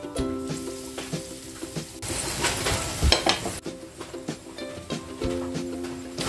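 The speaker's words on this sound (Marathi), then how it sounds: "ही कापं आता एक एक करून फ्राय करून घ्यायची।" Potato slices coated in semolina and rice flour fry in hot oil with a steady sizzle, broken by a louder burst of spitting and crackling midway. Occasional utensil taps and a low hum continue underneath, with no talking.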